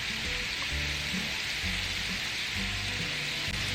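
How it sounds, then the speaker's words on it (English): Potatoes seasoned with Creole seasoning, garlic powder, black pepper and paprika fry in a pan with an even, continuous sizzle, moderately loud and close, with no voices over it. "we're going to fry our potatoes until they have a nice golden brown color"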